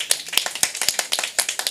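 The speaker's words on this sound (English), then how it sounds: "Clap if you want to clap." A conference audience claps in quick, uneven bursts of sharp hand slaps, close and fairly loud, with no speech.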